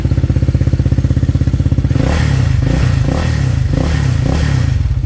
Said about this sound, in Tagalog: So pakinggan niyo, walang ganong tunog yung CVT natin.